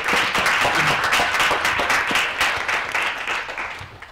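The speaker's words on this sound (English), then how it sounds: "I'll invite all of you to give a round of applause" An audience at a talk on Central American migration and forced migration claps for the clinical speakers: steady, dense applause from many hands that holds for about four seconds and then gradually thins and fades.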